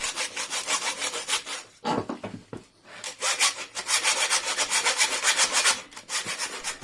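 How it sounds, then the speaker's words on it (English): Hacksaw cutting through the cylinder head studs of a Triumph TR7 engine, heard as rhythmic back-and-forth metal rasping strokes that stop briefly near the middle before resuming, close and steady. "I couldn't think of any other way to get the head off other than hacksawing through the studs like this."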